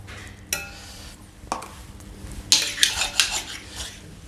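Small vegetables drop into a pan of gently melted butter, with sharp metallic clanks of utensil against the pan, then a burst of clattering and stirring near at hand, with no talk.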